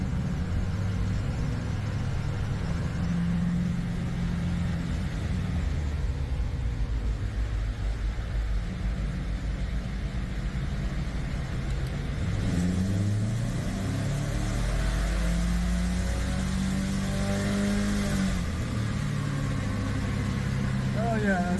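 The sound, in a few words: Subaru Crosstrek FB25 engine running on dyno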